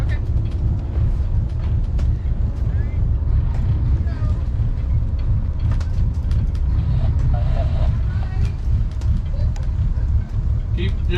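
A boat's engine idles steadily at a dock, a low continuous rumble running the whole time with faint clatter and background noise over it.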